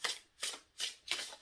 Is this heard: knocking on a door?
no